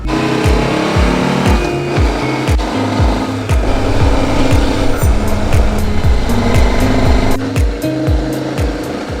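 A KTM 1290 Super Adventure motorcycle ridden along a road near Harpers Ferry, with a steady loud engine drone and rising and falling gear pulls close to the mic throughout, plus wind rush and no talk.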